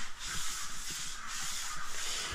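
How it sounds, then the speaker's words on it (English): Soft, rhythmic scraping of a sanding sponge rubbed back and forth across a wetted plaster wall patched with joint compound, steady strokes up close. "I wet the wall down, and then flip the sponge over and give it a light sanding"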